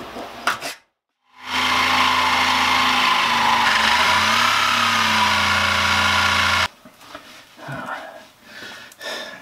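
A power tool screeches and grinds while cutting the rounded lip off a metal fender on a G-body car, a loud steady close whine for several seconds, then stopping, followed by scraping handling noises.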